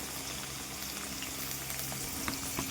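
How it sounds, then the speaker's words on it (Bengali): Chopped onion frying in oil in a pan for biryani, stirred until it browns, giving a steady, fairly soft sizzle with a few faint scrapes and clicks, with no voices. "পেঁয়াজটাকে একটু বাদামি বর্ণের করে নেড়ে চেড়ে ভেজে নেব"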